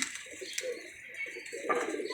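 A pigeon coos up close in soft, repeated low phrases, with a little background noise.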